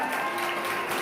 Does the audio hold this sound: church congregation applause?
yes